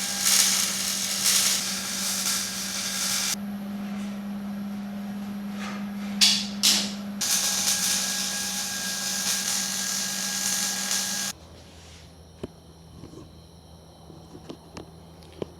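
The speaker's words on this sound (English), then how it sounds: "I'm gonna go ahead and fully weld it." Welding on a custom side-exit exhaust pipe for a 1999–2006 Silverado or Sierra truck makes two long bursts of crackling, buzzing arc noise over a steady hum, separated by a pause, then gives way to quieter faint clicks.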